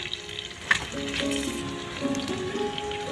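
Whole spices of a five-spice tempering (panch phoron) crackle and sizzle in hot oil for a Bengali taro-leaf and fish-head ghonto, a close, steady fry with a sharp pop near the start and tonal clinks over it.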